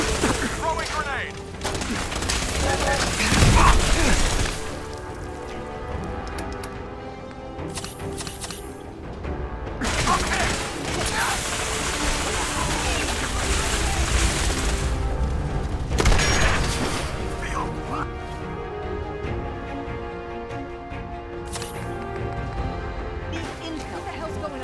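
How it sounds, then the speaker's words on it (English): A grenade thrown and exploding in Fallout 4, heard as a heavy boom about four seconds in. Gunfire and combat noise continue throughout, with further blasts around ten and sixteen seconds and shouted voices over the battle. "Throwing grenade!"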